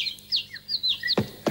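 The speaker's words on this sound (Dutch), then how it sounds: "Er zijn bijvoorbeeld de vogels." Several quick bird chirps and tweets trill in short bursts as a sound effect in a children's story, with two sharp knock-like taps near the end.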